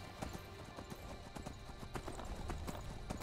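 Horses' hooves clip-clop in steady rhythm on a Skyrim game path, with occasional whinnies, fairly close and continuous over a low game ambience.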